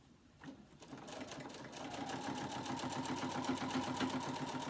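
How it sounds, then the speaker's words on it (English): A sewing machine stitches binding through thick quilt layers, its rapid rhythmic needle clatter starting up and settling into a steady, close, labored hum with no voices. "You can hear my machine. It's working a little harder right now."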